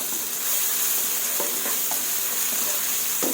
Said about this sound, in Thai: ผัดพริกให้หอมค่ะ